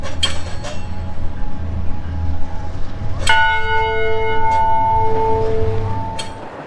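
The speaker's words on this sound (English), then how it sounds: "So this prison bell" A large prison bell in Yuma, Arizona struck a few times, ringing with long, sustained metallic tones over a low background rumble, close and loud.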